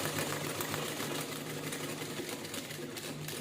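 A home sewing machine stitches fabric in a continuous close, loud mechanical rattle, the needle's rapid rhythm running steadily throughout with no voices.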